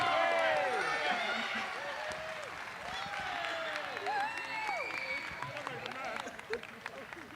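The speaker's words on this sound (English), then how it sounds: "Let's give a big round of applause to all our great exhibitors" An audience at a charity steer show applauds the exhibitors, steady clapping mixed with voices and calls through the whole stretch, loudest at the start and then holding level.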